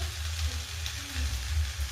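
Pasta, vegetables and chili sauce sizzle steadily in a hot frying pan, a close, soft hiss with faint stirring and no talking.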